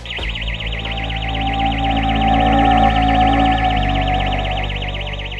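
A security alarm system siren wails loudly and continuously in a fast, regular warbling rise and fall, over a steady low hum.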